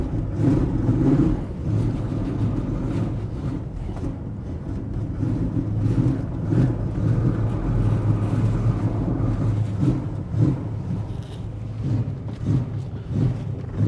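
A 1956 Chevy Long Roof wagon, just started after sitting for years, runs while being driven: a steady low engine drone with road and wind rumble, continuous and fairly loud, no talking.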